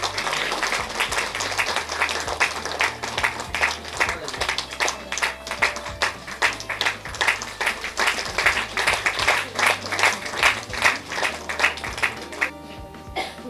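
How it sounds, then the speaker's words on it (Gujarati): A women's day award ceremony audience breaks into sustained clapping with a dense, even rhythm. The applause holds steady for over twelve seconds and then drops away. "જોરદાર તાળીઓ થઈ જાય"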